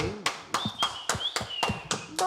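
A small group at a casual hangout show claps for a special guest named Bobby Castillo, with sharp hand claps repeating in a loose rhythm, close by, alongside a faint whistle-like tone.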